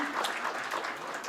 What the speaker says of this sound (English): A round of applause for Brother Ameen as well.